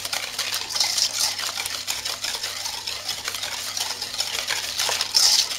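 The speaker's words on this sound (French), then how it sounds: "Je vais mettre mes œufs, le sucre et on va mélanger tout ça." A close, continuous swishing and light scraping comes from eggs and sugar being stirred together in a mixing bowl for a pastry recipe. It runs unbroken for several seconds with small utensil clicks and no voices.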